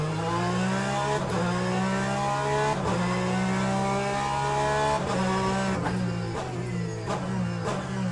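Porsche race car on track in Le Mans Ultimate, its engine holding a steady high whine with shifting harmonics, brief gearshift blips and a few sharp ticks, loud and close with no talk.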